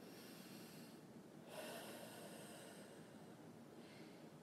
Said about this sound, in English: And then you're going to do a big inhale.